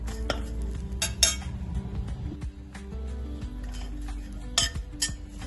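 Garlic and ginger roasting in a pan for a drumstick curry, stirred with a metal spoon that clinks and scrapes against the pan in sharp bursts over a low background rumble.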